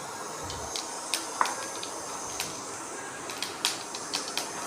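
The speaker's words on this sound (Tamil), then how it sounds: "இப்போ கடுகு வெடிக்கட்டும்." Mustard seeds splutter in hot oil in a pan while cabbage parupu poriyal is being made: scattered sharp pops and crackles over a soft, continuous sizzling hiss, close and fairly quiet.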